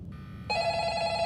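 A telephone in the video game The Diner: Reopened rings with a steady electronic trill that jumps to a louder, brighter tone partway through, alone over a low game hum.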